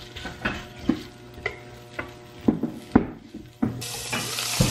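Food sizzles in a pan as corn is fried in butter and shrimp heads grill, with clatters of utensils and stirring scrapes across the close sizzle.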